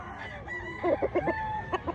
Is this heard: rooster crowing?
yes